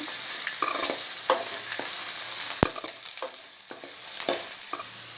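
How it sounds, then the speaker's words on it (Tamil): Garlic and lentils sauté in a pan with a steady bright sizzle, broken by repeated sharp scrapes and clinks of a spoon stirring against the metal. "இந்த மாதிரி வதங்கி வரணும் நல்லா. பூண்டு பாருங்க எப்படி செவந்து வருதுன்னு."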